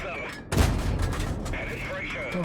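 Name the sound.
tank cannon shots in a tank video game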